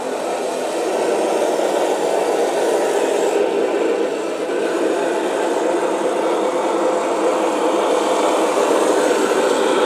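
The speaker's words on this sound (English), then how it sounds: "These are the Panzer 3 and 4 sounds, the 12-cylinder Maybach." An RC tank's sound unit plays a Panzer III/IV 12-cylinder Maybach engine, a steady rumbling drone that holds at an even level throughout with no talking.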